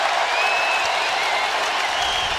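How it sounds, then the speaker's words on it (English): Crowd cheering in a basketball arena during a Lakers game as Kobe goes to the free-throw line, a dense, continuous roar of applause with occasional whistles. "The crowd cheering Kobe as he goes to the free throw line."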